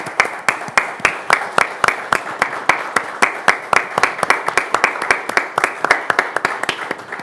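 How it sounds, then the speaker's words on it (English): Applause from a small group at a city council meeting, distinct individual claps in quick irregular rhythm, close and fairly loud throughout. "I think this deserves a round of applause"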